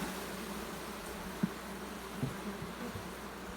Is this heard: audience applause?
no